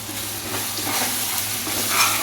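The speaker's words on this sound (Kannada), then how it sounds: "ಈ ಥರ ಫ್ರೈ ಆಗಬೇಕು ಆದರೆ ತರಕಾರಿ ಆಗಲಿ ಇದಾಗಲಿ ಅಂದರೆ ಎಣ್ಣೆನ ಫ್ರೈ ಆದರೆ ಚೆನ್ನಾಗಿರುತ್ತೆ" Food fries in hot oil in a pan, a steady, close, fairly loud sizzle with faint stirring over the short stretch and no speech.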